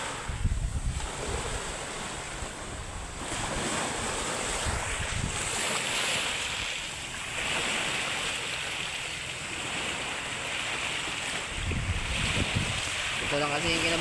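Strong wind gusting by the sea on a Palawan coast, a steady loud roar of wind noise over waves and surf, with a voice speaking faintly at times.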